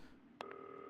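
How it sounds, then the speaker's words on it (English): A video game telephone at nighttime gives a short electronic ring: one brief burst followed by a steady two-tone beep, quiet and alone over a faint background hum. "Phone's ringing."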